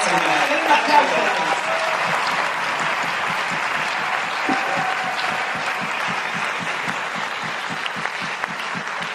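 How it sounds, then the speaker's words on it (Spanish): A church congregation applauds during a sermon, giving sustained, steady clapping that fills the room for several seconds, with some crowd noise mixed in. "Denle un aplauso."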